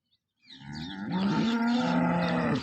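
A cow lets out a single long, low moo nearby, swelling and holding steady for about two seconds.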